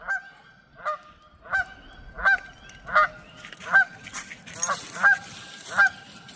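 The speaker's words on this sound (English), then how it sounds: "They're probably, obviously the Canadian geese" Canada geese honking repeatedly, about eight loud calls at a steady pace, with some flapping and rustling noise building toward the end.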